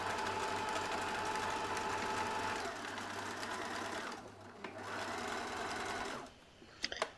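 A sewing machine stitches along the open side of fabric bunny ears for a baby teething ring, a steady close whirring run for about four seconds that stops, followed by a few small clicks and handling noises.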